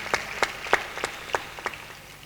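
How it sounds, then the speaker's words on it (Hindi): A few scattered, distinct hand claps ring out sparsely from an audience at an annual festival gathering, roughly one every third of a second, growing fainter as they trail off. "इनका पूरे एक जोर से तालियां बजा के स्वागत करें।"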